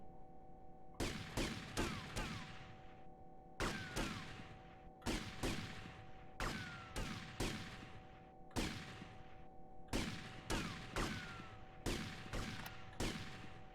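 Gunfire in Grand Theft Auto Vice City: repeated clusters of two or three sharp, loud shots with ringing tails, recurring every second or so over a steady background hum.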